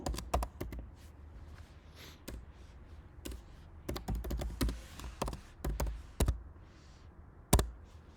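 Typing on a computer keyboard while entering an address into an online application form: clusters of sharp, close key clicks in uneven bursts, with one louder keystroke near the end and no talking.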